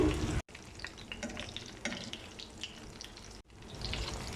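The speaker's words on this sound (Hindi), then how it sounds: "इसको चारों तरफ से हमने शैलो फ्राई करना है।" Gola kebabs shallow frying in a pan give a steady, close sizzle with scattered crackles and stirring scrapes, interrupted by two brief silent gaps.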